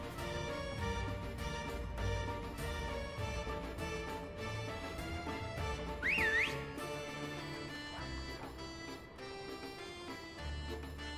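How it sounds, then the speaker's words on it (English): In Genshin Impact, a short whistle rises and bends upward midway through, sitting over layered game music that continues steadily throughout. "Did they not hear that whistle?"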